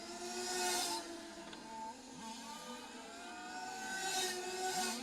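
Small-scale electric touring cars and F1 models racing at Lostallo, their high-pitched motors whining and rising in pitch as they sweep past one after another, fairly faint and distant with no talking.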